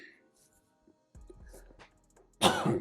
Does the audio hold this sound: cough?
yes